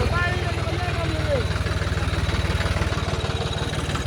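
A steady, low diesel tractor engine idles with a rapid, even throb throughout, while voices chatter faintly in the background.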